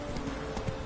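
Hooves of Roach, Geralt's horse in The Witcher 3 video game, clopping in a brief steady burst, close and moderately loud against a low background hum.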